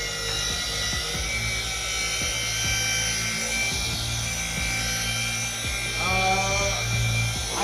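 A car polishing machine set to speed 3 whines steadily at close range as it works paint. Its pitch rises and wavers briefly toward the end. No one speaks.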